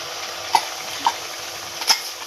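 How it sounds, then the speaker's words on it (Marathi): Ginger, garlic and coconut paste tossed into onions frying in a pan for a shellfish curry: a soft steady sizzle broken by three sharp stirring clinks of a utensil against the pan. "अद्रक लसूण आणि खोबऱ्याचं जी वाटण केलेलं आहे ते आपण त्याच्यात टाकणार आहोत"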